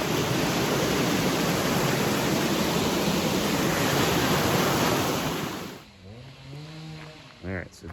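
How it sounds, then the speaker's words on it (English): A rushing river flows right beside a cliff-side trail, a loud, steady broadband roar that fills most of the stretch before dropping away abruptly, after which a voice speaks over faint background sound. "Right alongside the rushing river."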